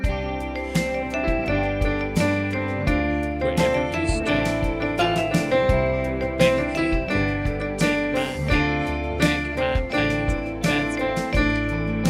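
A piano plays a brisk, rhythmic tune with repeated bass chords and bright melody notes, steady and fairly loud throughout.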